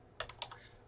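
Computer keyboard typing, with a few quick, faint key taps in a short burst and no voices.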